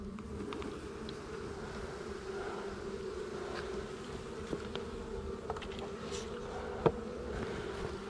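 Honeybees buzz steadily around an open hive frame as a new queen is introduced, a dense, continuous drone with occasional individual bees passing close by.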